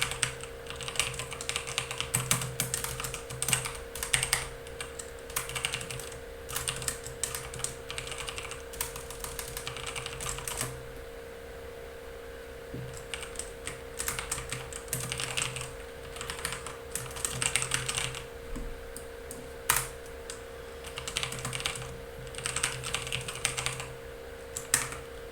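Rapid clattering of a computer keyboard as code is typed for a Leetcode Max Stack problem, close and continuous in bursts with a brief lull near the middle, over a steady electrical hum.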